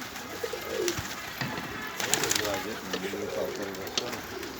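Pigeons coo repeatedly at close range while voices talk over them, with occasional soft wing flutters.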